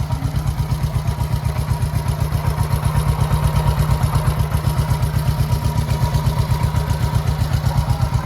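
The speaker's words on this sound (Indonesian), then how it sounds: "Ini untuk suara mesinnya." A 1969 Honda CB 350 motorcycle engine idles steadily up close, its rapid, even low putter continuing without a break and with no talking.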